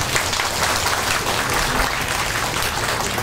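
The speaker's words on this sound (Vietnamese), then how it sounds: "Xin Phật tử cho một tràng pháo tay." Dense, sustained applause from a large crowd at a Buddha's Birthday celebration at a Buddhist temple in Santa Ana, steady clapping filling the space for a few seconds without any voices.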